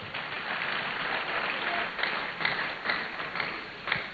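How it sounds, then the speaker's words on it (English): Auditorium audience at a national youth forum applauding steadily, a dense wash of clapping that swells in a few louder bursts toward the end, with no speech over it. "Please let's give him a round of applause."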